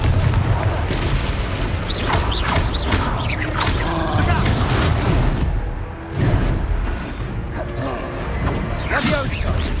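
Confringo fire spells in Hogwarts Legacy set off repeated booming blasts and crashes, dense and loud. Game voices and speech run under the impacts throughout.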